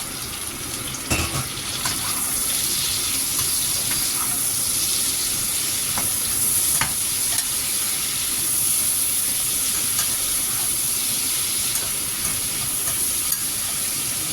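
String beans frying in a hot pan for Filipino adobo, a continuous close sizzle with hissing steam, occasional stirring clinks and scrapes, and no talking.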